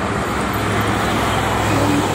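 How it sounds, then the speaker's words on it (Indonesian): Private cars and trucks travel the Jakarta-Cikampek toll road in the morning, making a constant roadway roar with an unbroken engine-and-tyre hum that stays steady and loud throughout, and no one speaks. "Ke arah Jakarta juga itu mobil pribadi sama truk,"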